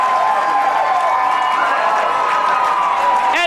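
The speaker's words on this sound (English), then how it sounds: "And just listen to this crowd." Baseball crowd at a high school championship series game roaring with sustained cheers and applause after a hit scores a run, loud and continuous throughout with shouting voices rising in the mix.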